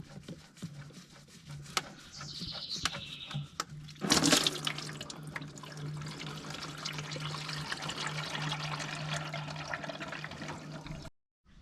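Engine oil drains from a Cat 299D3 skid loader into a bucket, a steady trickling, splashing pour that starts thin, swells into a fuller gush after a brief knock, then stops abruptly.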